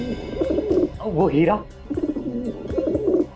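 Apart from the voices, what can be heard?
pigeons cooing in a house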